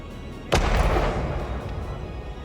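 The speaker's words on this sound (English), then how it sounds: "someone managed to trigger the prox explosive without dying" A proximity explosive detonates in the Hitman Freelancer game: one sudden loud blast followed by a long rumbling, crackling tail, with no voices.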